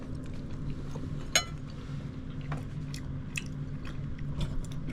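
Someone chews a mouthful of puttanesca pasta with soppressata, artichoke, sundried tomato and anchovies, soft close mouth sounds and occasional faint clinks under a low background hum.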